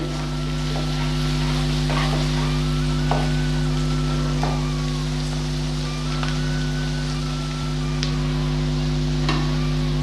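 Whole cinnamon, cardamom and cloves sizzling in hot oil in a pan for pepper chicken, a steady crackling fry with small pops over a constant low hum.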